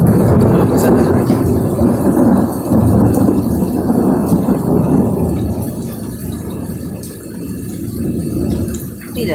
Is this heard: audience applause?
no